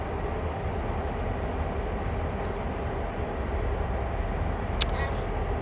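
Low continuous rumble of a passing CSX freight train in Train Sim World, steady and heavy, with a brief sharp click near the end.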